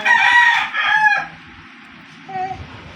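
A nearby rooster crows in a loud, strained call that breaks into two rising bursts, followed by a brief softer cluck, with faint background murmur.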